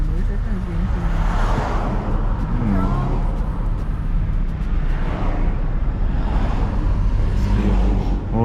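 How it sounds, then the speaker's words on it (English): Steady road traffic rolls past in St. Ann, Jamaica, cars and heavier vehicles forming a continuous broadband roar with a few swells as vehicles pass close, with voices heard faintly in the mix. "Whole heap of traffic."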